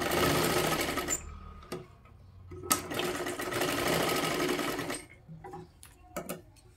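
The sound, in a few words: sewing machine stitching a double seam on a katori blouse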